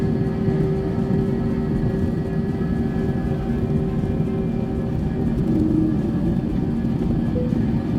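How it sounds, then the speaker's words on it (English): A jet airliner rolls down the runway and lifts off departing Chicago, a steady loud roar of engines and cabin rumble holding constant throughout, heard from inside the cabin with no talking. "Goodbye ground, we have liftoff."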